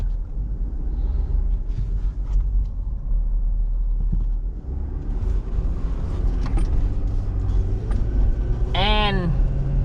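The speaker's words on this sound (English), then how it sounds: "Sounds amazing. Turbo diesel." A 2019 Ford F250 turbo diesel pickup with 450 horsepower and a 6-speed automatic idles in a deep, steady rumble close by, with a brief whistling tone rising near the end; a voice speaks faintly over it.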